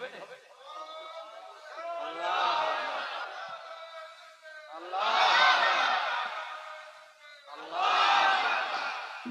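A large crowd at a religious sermon shouts the takbir, Allahu Akbar, in three loud collective surges of voices, each swelling and fading with short quieter gaps between.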